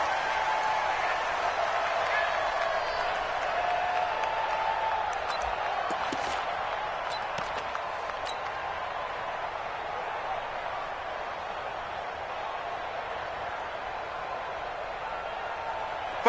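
Crowd at an NFL game between the New England Patriots and Miami Dolphins in a football video game, a steady wash of stadium cheering and murmur holding at even loudness, with brief claps and spikes rising midway through.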